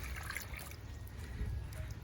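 Liquid is poured into the soil beneath an ornamental turtle in a hobby setting, a close, continuous trickling pour that runs steadily throughout with no speech.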